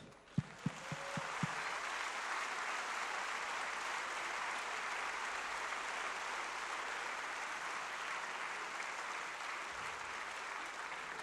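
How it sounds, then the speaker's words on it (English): An audience at the 2008 Hi Tec World Squash Championships breaks into sustained, even applause for the tournament sponsor after a few sharp early claps, filling a large indoor arena for about eleven seconds. "I just want to give him a big clap"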